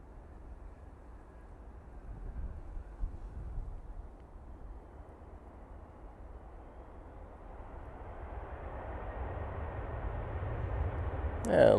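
Airliner landing at Manchester Airport, a faint, distant roar of jet engines and runway rumble that slowly swells in loudness toward the end.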